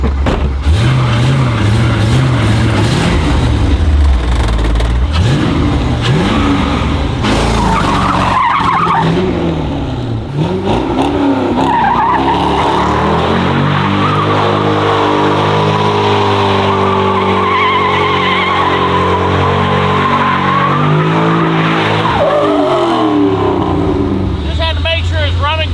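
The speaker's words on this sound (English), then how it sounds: "you got to make sure it still does burnouts" A Corvette-engined snowmobile conversion revs hard and spins into a burnout, a loud sustained engine roar with rising and falling pitch and tire-scrub texture, while a person talks over it.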